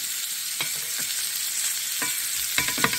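Bacon sizzles in an old Griswold cast iron skillet, a steady close frying hiss with a few soft stirring scrapes and pops near the end and no voices.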